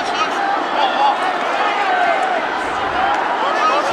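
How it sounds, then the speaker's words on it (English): Steady murmur and shouting of a restless crowd at a college lacrosse game between Hobart and Syracuse, a continuous broad wash of voices with no clear breaks. "Crowd getting a little restless."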